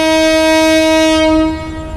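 Nasirabad Express passenger train blowing a loud, sustained horn as it departs a station at night between Feni and Chattogram, the steady tone cutting off near the end and leaving low rumbling train noise.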